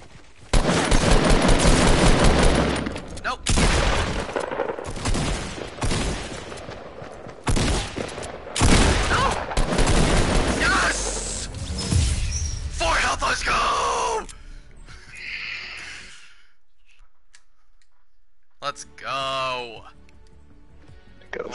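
Video game gunfire crackles in rapid volleys, joined by a shotgun blast, loud and up close, with players talking and shouting over the shooting before the action drops to near silence.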